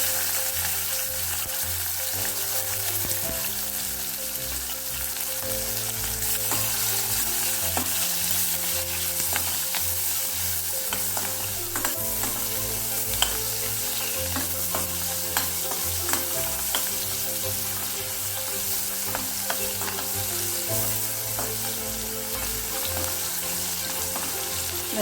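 Garlic and onion fry in oil with asafoetida for a Tamil sundaikkai kara kulambu, a steady close sizzle with occasional stirring scrapes and clicks running throughout, no voices.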